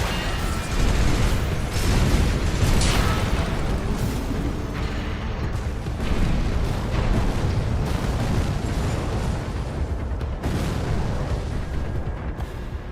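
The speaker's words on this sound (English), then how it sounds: "I don't know who's causing those explosions." Explosions in Armored Core VI rumble continuously, a dense, loud barrage of deep booms and bursts lasting the whole stretch, with no voices.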